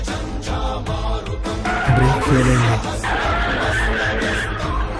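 A car skids with sudden brake failure, tires squealing loudly over a revving engine for several seconds, with music playing underneath.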